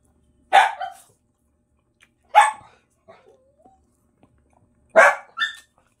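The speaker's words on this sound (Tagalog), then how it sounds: "marami talagang aso dito sa amin. Maingay." Dogs barking outdoors in a Philippine neighborhood, three sharp, separate bursts of barks spaced a few seconds apart, fairly loud, with faint yips in between.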